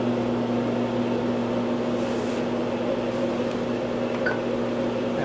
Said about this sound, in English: Now what it's doing is like a vacuum cleaner, it's sucking everything in.